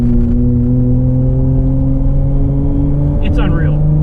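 Nissan R32 GTR with HKS parts and all-wheel drive pulling hard under acceleration, a loud, sustained engine drone heard from inside the car, with a short higher-pitched sound near the end.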